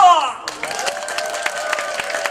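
An audience of elderly villagers claps at a rural community show, a dense, steady wash of applause that begins after a short vocal or musical tone and carries on loudly to the end.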